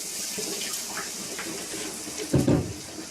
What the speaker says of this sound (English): And put in a little water, right?